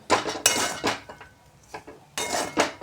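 A spatula scrapes and clinks against a plain kadai while stirring mung dal kachori filling, in irregular, close, fairly loud strokes with quieter gaps between and no talking.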